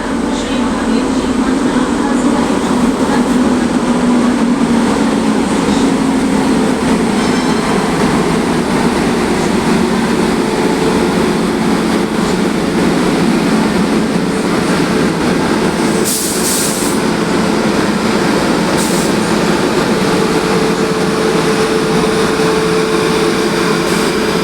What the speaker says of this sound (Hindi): अभी मेवाड़ एक्सप्रेस आ ही रही है।